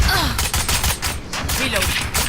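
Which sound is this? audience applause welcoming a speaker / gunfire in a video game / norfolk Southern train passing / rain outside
gunfire in a video game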